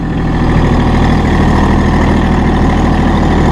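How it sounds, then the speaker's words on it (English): The engine of a Massey Ferguson GC1723E sub compact tractor runs loud and close with a steady, low diesel drone and rumble. It holds an even level and no one talks over it. "And you're driving a new Massey Ferguson GC1723E series."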